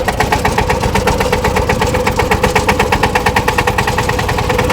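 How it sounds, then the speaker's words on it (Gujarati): A farm tractor engine runs close by with a loud, steady chugging pulse, its fast, even thumps continuing throughout without any talking. "આપણે ટ્રેક્ટરની સીટમાંથી થઈ ગયા છે અને ટ્રેક્ટર લઈને આપણે વાગ્યા છે."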